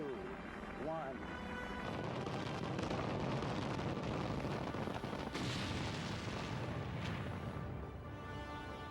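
Apollo moon rocket launching, a massive continuous roar with deep rumbling and crackling that swells and holds steady, loud and sustained, with a voice briefly present near the start.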